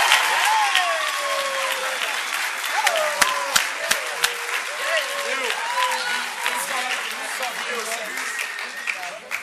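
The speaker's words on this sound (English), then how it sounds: "I think they need a round of applause" A holiday concert audience at Dearborn High School applauds the carolers, steady, full clapping with whoops and cheering voices rising above it and a few sharp claps standing out.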